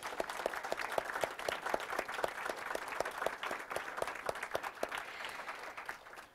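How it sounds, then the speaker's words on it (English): An audience at a school board recognition meeting applauds in a fairly faint, steady patter, with one clap standing out in a regular beat over the softer crowd clapping. "So let's give them all a round of applause."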